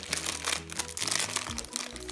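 Plastic crinkles and crumples as a LOL Surprise doll is taken out of its small packet, in quick, close, irregular bursts of rustling.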